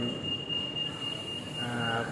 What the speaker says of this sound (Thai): ดูรถไฟใต้ดินเคลื่อนกระบวนไปก่อน